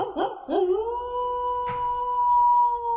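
A long, sustained wolf-like howl rises after a few short yelping starts and holds a steady pitch at moderate loudness; it is likely a person imitating the howl in celebration of the Minnesota Timberwolves reaching the Western Conference finals.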